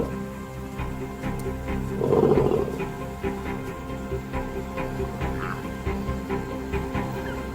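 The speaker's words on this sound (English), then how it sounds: "The roar can be heard over 8 kilometers away." A lion roars at night, a deep, loud, drawn-out call that swells and then fades into lower grunting rumbles against a steady nocturnal background.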